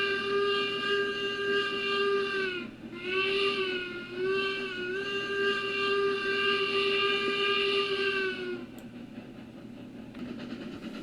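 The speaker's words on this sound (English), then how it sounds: "Give a little whistle as we're going to this town." Steam locomotive whistle in the railroad game Railroads Online, a long sustained chord-like blast with a brief dip partway through, loud and close over a low rumble, then cutting off into quieter running noise.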